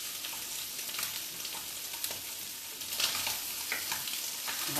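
Turmeric and spices fry in a pan with a constant close sizzle, punctuated by stirring scrapes and light crackles that swell slightly toward the end.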